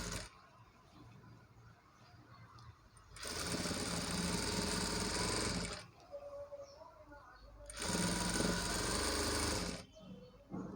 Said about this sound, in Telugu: ఇలా ఒక టాప్ స్టిచ్ వేసుకున్న తర్వాత